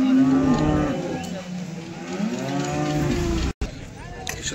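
A cow lows loudly and close at a cattle market, two drawn-out moos with a short pause between them, no speech over them.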